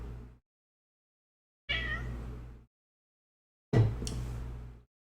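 Close-up meows from Kiska the cat, three loud cries beside the microphone, each cut off into silence between them.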